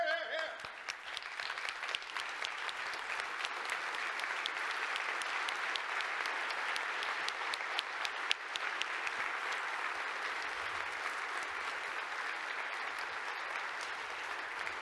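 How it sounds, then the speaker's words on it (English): A conference audience at DevOps World | Jenkins World gives a sustained round of applause in memory of a colleague, a dense, even wash of clapping filling a large hall for the whole stretch. "giving him a round of applause"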